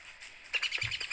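Bright, quick bird chirps from the video game Don't Starve flutter in a short burst, clear and close, with no talking.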